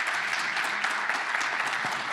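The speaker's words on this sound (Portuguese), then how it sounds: "Você pode aplaudir bem forte, até doer sua mão" A church congregation claps loudly and vigorously, a thick continuous roar of many hands with scattered sharper claps, sustained at full strength from start to finish.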